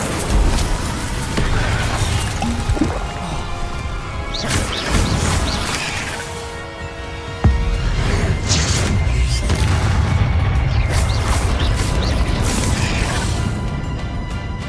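Incendio fire spell in Hogwarts Legacy, a run of booming, crashing game effects with one sharp impact partway through, layered over a steady loud roar of action and background noise.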